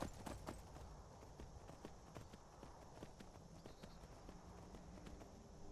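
Horse hooves clip-clop steadily in the game Skyrim while a horse climbs a mountain, a continuous walking rhythm of close, moderately loud hoofbeats over low rumbling ambience.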